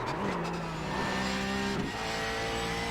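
Race car engine in a sim racing video game on a hot lap, a steady loud engine drone with shifting revs and a brief dip near the end, continuous throughout.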